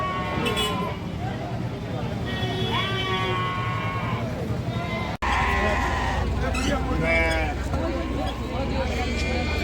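Goats bleat repeatedly at the Ettayapuram Friday goat market, several wavering cries near and far over a busy crowd murmur, with people talking throughout.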